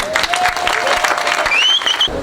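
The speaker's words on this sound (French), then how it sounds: "Eh bien, nous applaudissons si nous comprenons" Applause from an audience at a political rally fills the whole stretch, a dense steady patter with a few whistles rising near the end and no clear voices above it.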